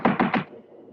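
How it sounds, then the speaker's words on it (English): Three firm knocks on a wooden door in quick succession, close and loud, followed by a quiet pause. "Better try knocking this time, Watson."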